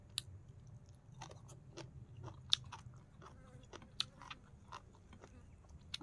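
Someone outdoors chewing and eating papaya salad with broccoli stems, dried papaya and carrot, giving soft crunchy bites and wet mouth noises at an irregular pace, quiet and close, with no talking.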